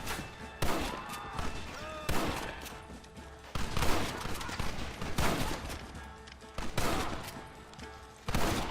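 Gunfire from the video game Red Dead Redemption during a fight at a gate: loud, near volleys of rifle and pistol shots with heavy booms, rapid and irregular, with faint voices shouting under the shots.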